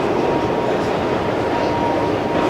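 A metro train in the Tbilisi Metro rumbles steadily and loudly nearby as it arrives, a continuous roar of wheels and motor with no break across the clip.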